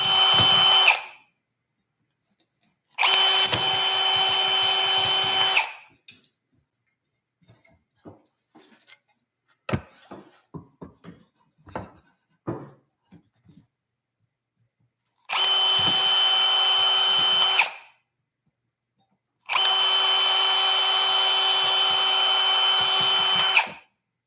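A small high-pitched drill with a tiny bit runs through wax in four separate bursts, two at the start and two at the end, with light clicks and tapping between.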